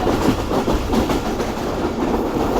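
Rehman Baba Express passenger train running on rails through the Sukkur division in Pakistan, with a steady, close rumble and a faint clickety-clack that holds level throughout.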